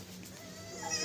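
Young goat kids bleat softly on a small farm, a faint, brief, thin call close by with no talking.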